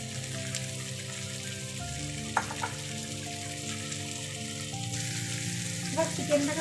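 Yogurt-marinated chicken fries in a pan with a constant moderately loud sizzle, joined by a couple of brief stirring scrapes near the middle and toward the end.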